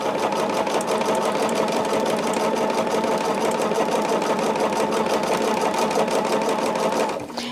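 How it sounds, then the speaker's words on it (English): A sewing machine runs continuously while stitching a petal bag, a close, even mechanical whir with a rapid regular needle patter that stops abruptly at the end. "do another 1/4 of an inch stitch on that, just to kind of hold it together there real well."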